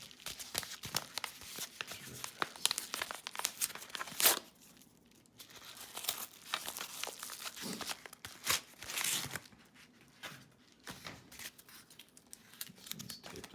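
A taped-up mail package of sports cards being opened: faint, steady crinkling and tearing of tape and packaging, close by, with brief pauses.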